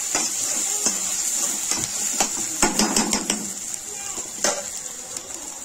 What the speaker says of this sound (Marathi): कांदा असा गुलाबी होईपर्यंत त्याला फ्राय होऊन द्यायचा आहे आपण।